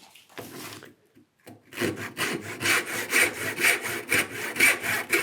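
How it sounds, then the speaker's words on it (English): A hand saw cuts across the grain of wood for stop cuts while making a stool. A couple of short taps lead into quick, rhythmic back-and-forth rasping strokes that grow louder, close up and alone. "put a couple of saw cuts in there,"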